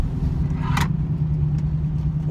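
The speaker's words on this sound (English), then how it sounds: "I'm not even touching the gas, and this thing is freaking just spinning out." A car fitted with a throttle-response mod lets out a continuous low engine rumble, its wheels spinning out under acceleration, with a brief brighter burst partway through; nearby and fairly loud, with no voices.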